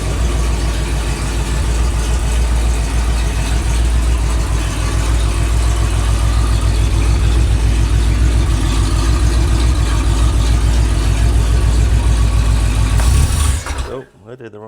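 A rebuilt small-block Ford V8 with a carburetor idles at around 900 RPM, giving a loud, steady, close rumble that holds almost throughout before dropping away suddenly at the end.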